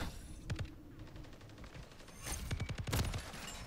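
Weapon fire in Modern Warfare 3, with bursts of rapid gunshots: one volley near the start, then a louder run of fast shots between two and a half and three seconds over a busy game background.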